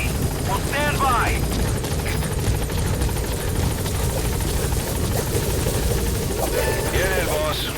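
A support helicopter in Metal Gear Solid V arrives at the landing zone with loud, steady rotor thumping and engine roar, close and continuous throughout. Radio voices and short chirping effects sit in the mix.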